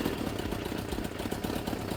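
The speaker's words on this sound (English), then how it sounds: "That's idling right." A vintage motorcycle engine, one of a Honda and Suzuki pair being repaired with an oversized main jet, idles with a steady low pulsing putter at close range, running alone without talk.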